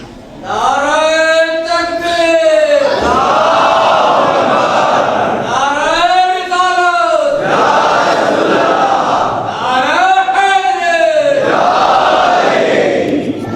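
A crowd loudly chants the Naara-e-Takbeer slogan in unison, three strong rising-and-falling vocal bursts spaced about four seconds apart, close and dominant over a continuous murmur.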